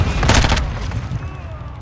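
A heavy barrage of automatic gunfire in a hardcore Shipment match of Call of Duty: Modern Warfare, many overlapping shots packed into a loud, close burst that tails off quickly.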